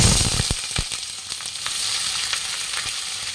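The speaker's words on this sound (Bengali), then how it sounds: "পেঁয়াজটা আমি একটু লাল লাল করে ভেজে নেব" Chopped onions with bay leaves frying in oil, a strong close sizzle with sharp crackling pops and a few clacks of stirring, steady over a few seconds.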